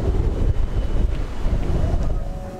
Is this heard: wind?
yes